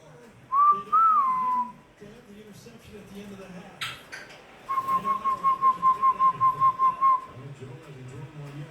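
A nine-month-old African grey parrot gives two clear whistles close by, a short rising-and-falling call and then a longer, steadily pulsing whistle, with soft kitchen-like background noise.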